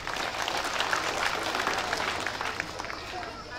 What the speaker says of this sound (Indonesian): Saya minta kita semua tepuk tangan untuk panitia.